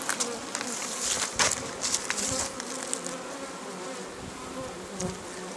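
A dense, continuous buzz of many honeybees at full hives in mid-September fills the air nearby, steady and loud, with a few brief louder passes.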